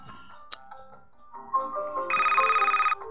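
Phone ringtone in the Toca World video game: a bright, steady electronic ring that swells in for about a second and then cuts off, following quieter game sounds.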